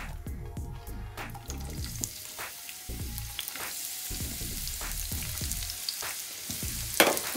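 Onions frying in ghee for a vegetable Thalassery dum biryani, a steady close sizzle accompanied by low rhythmic thumping and a few sharp crackles toward the end, no voices.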